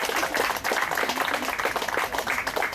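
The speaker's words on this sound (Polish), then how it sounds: "Brawa dla kobiet." A crowd at an outdoor charity run with dogs along a canal in Bydgoszcz applauds the women race winners. The clapping is dense and continuous and stays at an even level for the whole moment.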